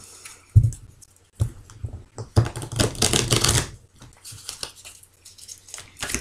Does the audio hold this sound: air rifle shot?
no